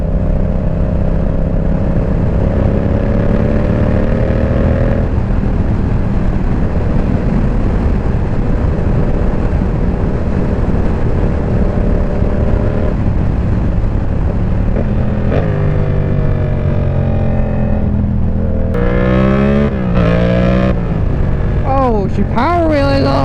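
A Yamaha MT-07 motorcycle is ridden hard on the road in fall, its engine droning, then revving up through rising and falling sweeps near the end, with a rider's voice talking over the steady rush of wind.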